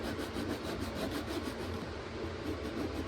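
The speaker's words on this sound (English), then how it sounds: "And we'll just simply hold this on the edge like this. And I will sand this" Sandpaper held by hand against the edge of a wooden boat plank while planking a stern with stealers, a close, steady rubbing rasp repeated in quick even strokes.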